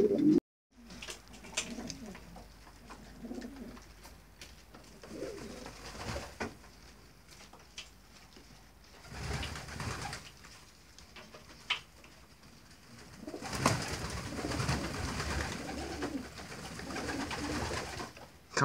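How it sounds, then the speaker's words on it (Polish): Racing pigeons resting after a roughly 170 km race flight to a loft near Połczyn-Zdrój coo softly and repeatedly. The low calls come in scattered bursts at close range, with light rustling and shuffling around them. "Gołąbki już sobie odpoczywają po locie."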